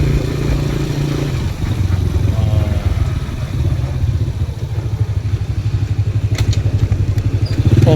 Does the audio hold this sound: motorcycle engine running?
yes